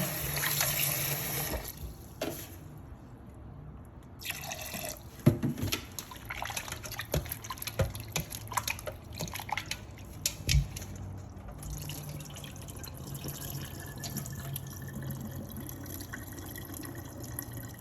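Raw chicken pieces rinsed under a running kitchen tap, a steady splashing stream with drips and handling clatter in a sink, close and continuous without speech.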